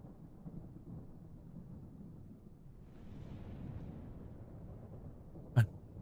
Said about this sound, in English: I'm hearing the same thunder outside.